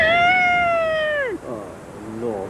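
A cat gives a long, loud, drawn-out meow that falls off sharply, followed by softer shorter mews close by.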